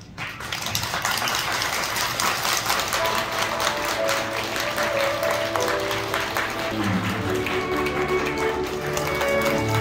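Wedding guests applaud loudly and steadily for the parents' entrance at the start of a ceremony, a dense, continuous clatter of many hands lasting throughout, with faint music or tones underneath.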